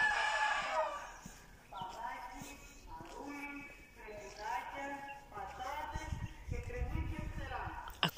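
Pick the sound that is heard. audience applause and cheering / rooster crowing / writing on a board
rooster crowing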